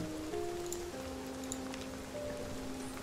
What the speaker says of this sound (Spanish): Ay, pero está lloviendo, boludo.